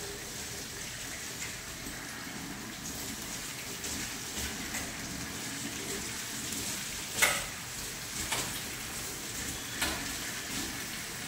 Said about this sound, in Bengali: আমি সব চিকেনের পিসগুলো পরপর দিয়ে দিয়েছি। এবার দিয়ে দিচ্ছি এই গ্রেভিটা।